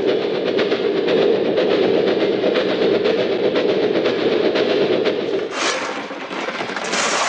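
A train rolls along a railway track with a steady, loud rumbling rattle and faint clickety-clack, swelling briefly near the end.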